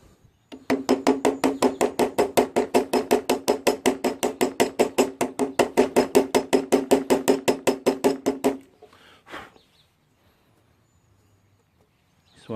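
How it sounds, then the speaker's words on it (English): A stripped brake cap screw on a GY6 brake assembly gets chiseled with about forty rapid, evenly spaced metallic blows over roughly eight seconds, close and loud. Then the hammering stops and only faint shuffling remains. "So what I'm doing is just chiseling it."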